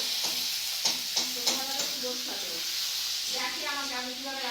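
Food sizzles and frying in a pan while being stirred, a steady hiss with a few sharp scraping stirs and voices talking over it.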